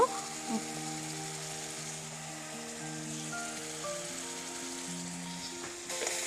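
Garlic sizzles steadily in a hot pan for chutney, a constant crackling hiss, with faint background tones and no talking.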